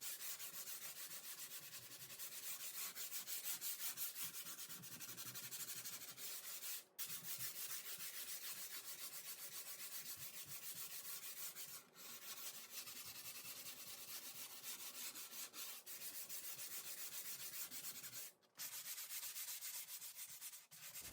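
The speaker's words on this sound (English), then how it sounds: "I'm going to come back with 120 grit sandpaper and smooth out the surface" Sandpaper of 120 grit rubs over a painted pantry door coated in chalkboard paint, producing a continuous rasping back-and-forth scrub with brief pauses at three points, close-up and steady throughout.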